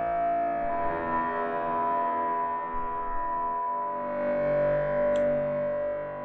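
A sustained synth tone in VCV Rack runs through the Vortex Volt Russian filter and a long, high-mix Blumsoft XFX reverb, giving a steady, slightly distorted drone with a wash of reverb that swells and fades, with no voices.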